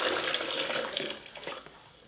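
Water, 2.5 cups, pours steadily into a blender jar for making coconut milk, a bright splashing rush that eases and tapers off toward the end.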